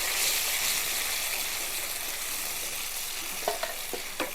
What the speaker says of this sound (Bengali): সব মশলা একবারে দিয়ে দেবো দিয়ে মশলাটা ভাজা হতে থাকে